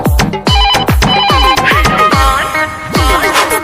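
A loud electronic ringtone plays a bright, repeating melody over punchy beats, continuing steadily without pause.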